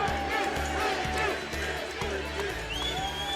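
Wrestling fans roar at ringside during a National Wrestling Alliance legends tribute, a loud, steady crowd wash with scattered cheers and a rhythmic thumping beat underneath, while an announcer talks over it.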